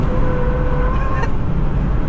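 A Renault Clio 3 Cup race car drives on a track, its engine a steady, loud drone with a brief whine, heard close and continuously with no talk.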